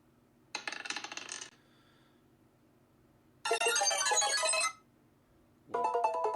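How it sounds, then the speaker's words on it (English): A slot machine sound effect for an Alexa casino skill plays in three separate bursts of bright ringing chimes and jingling coin-like clatter, with near silence between them. "No, it needs to sound like a slot machine."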